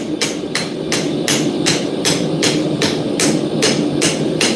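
Steel hammer head being forge welded, a steady run of about ten evenly spaced, ringing hammer blows on hot metal, loud and close with no talk.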